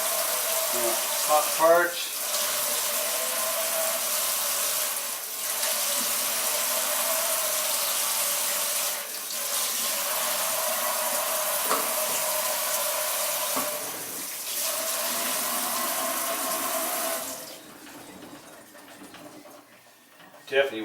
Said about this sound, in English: let's rinse it down for a little bit